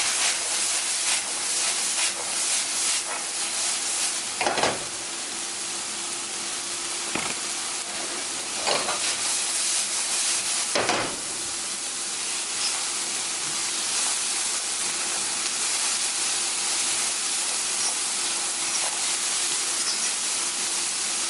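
Carrots and other vegetables for a vegan stir fry steam in a pan with a continuous loud hiss and sizzle, broken by a few brief sharper bursts, heard up close and without talk.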